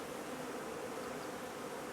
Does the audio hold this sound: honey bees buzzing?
yes